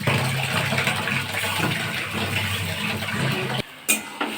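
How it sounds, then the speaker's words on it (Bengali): Spice paste of chilli, ginger, cumin and nuts with tomato paste hits hot oil in a pan, giving a steady broadband sizzle that runs continuously before cutting off near the end. "এবার তেলটা গরম হয়ে গেছে, দিয়ে দেবো মশলাটা"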